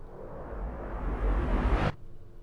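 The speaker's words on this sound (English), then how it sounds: "It's just straight white noise." A broadband hiss swells steadily brighter and louder for about two seconds, then cuts off abruptly into near silence.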